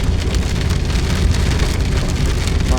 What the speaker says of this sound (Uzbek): Ana yomg'ir ham yog'ishni boshladi. Yomg'ir quyib yubordi.